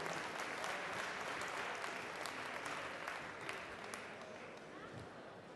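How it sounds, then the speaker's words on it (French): Sustained audience applause at a cooking competition for winemaker-chefs, dense steady clapping from a crowd that holds for several seconds and fades slightly toward the end, with a few voices mixed in. "On applaudit, s'il vous plaît,"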